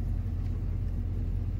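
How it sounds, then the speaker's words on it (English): A GMC truck with about 215,000 miles on it sits with its engine running in a steady low rumble, close and even throughout, with no voices. "So we're gonna start with the truck."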